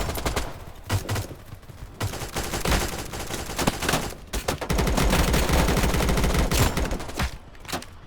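Rapid gunfire in the video game BRM5 rattles off in dense automatic bursts while shooting at a fence, loud and continuous with brief gaps between strings of shots.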